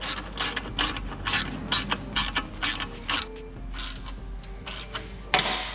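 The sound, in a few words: ratchet tightening 13 mm exhaust clamp on Harley-Davidson Road Glide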